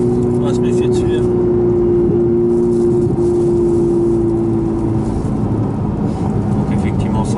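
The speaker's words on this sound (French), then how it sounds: "C'est vrai qu'on a le V8 qui rugit dans le dos" V8 car engine roaring from behind the cabin during a road driving course, a loud continuous rumble with a steady tonal hum, faint voices mixed in under the engine.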